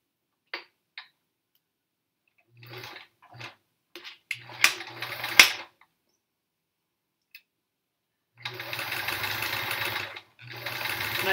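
A sewing machine stitches in short separate bursts of whirring and clicking, with quiet gaps between runs and a longer steady stretch near the end, close and moderately loud.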